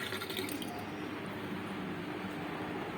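Chilies being rinsed under running tap water, a steady splashing flow close by, fairly quiet and unbroken throughout.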